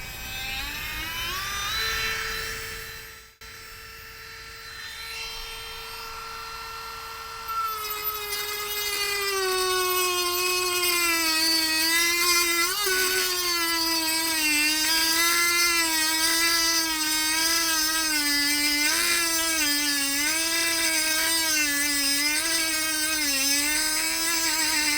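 A PHALANX 4V cordless rotary tool whines at top speed as it cuts through a small cross section, a loud, steady high-pitched buzz whose pitch dips and wavers under load for a long stretch, without talk.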